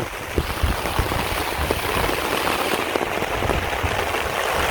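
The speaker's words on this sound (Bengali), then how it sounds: "যে চারদিকে বৃষ্টি আর বৃষ্টি।" Rain falls steadily all around, a broad even wash of drops with a faint flowing-water quality and no talking.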